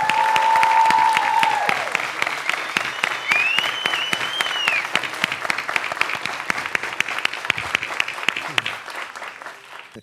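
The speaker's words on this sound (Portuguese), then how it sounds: "Uma salva de palmas, galera." Lively applause from an audience at an outdoor cultural talk and music event, rapid dense clapping that stays loud throughout and tapers slightly at the end, with a whistle and cheers early on.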